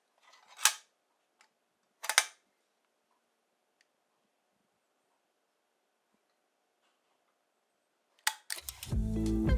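Shutter of a film camera loaded for square-format shooting fires twice, two crisp separate clicks about a second and a half apart in a quiet room, followed later by a louder clatter and rising noise.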